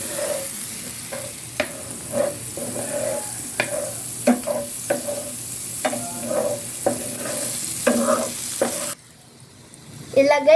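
Chicken fries in margarine in a pan, with a steady sizzle broken by repeated scraping clacks of a spoon stirring, then a brief drop in sound before more stirring resumes.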